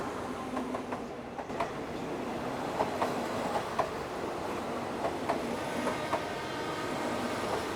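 A train rumbles past at Makkasan near Bangkok with a steady roar and rhythmic clicking of wheels over the rails, fairly close and continuous throughout.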